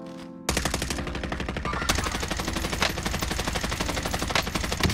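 Continuous loud automatic gunfire from Call of Duty Warzone, a dense rattling stream of shots that starts abruptly and keeps going without pause, with no talk over it.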